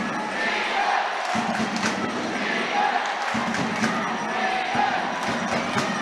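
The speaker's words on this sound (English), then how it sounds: "Steelers fans on the feet applauding their three-man penalty kill" Ice hockey crowd at a Manchester Storm v Sheffield Steelers game, Steelers fans on their feet applauding a three-man penalty kill, a broad steady roar of clapping and cheering in an arena with thumps from the rink.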